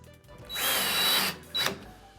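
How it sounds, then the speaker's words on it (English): A power drill driving screws into an LG NANO75 4K TV stand, one sustained whirring run of about a second followed by a short second burst, close and loud. "And then you can go ahead and screw in the screws."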